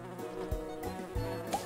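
A bee buzzes in the Pollinator Pathway video game from Nature Cat, a short, soft, wavering drone with small bumps in level.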